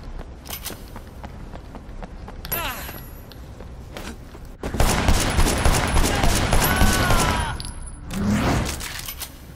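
Rapid gunfire bursts in the video game Sleeping Dogs, loud and close with chattering automatic volleys and scattered single shots, swelling into a dense barrage midway, with brief voices and shouting mixed in.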